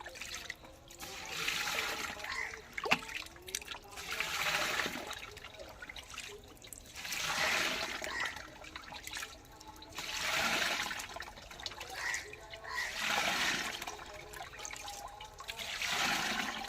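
Water is bailed out of a fish tank holding young shing catfish, with repeated splashing and trickling surges that rise and fall in waves at close range.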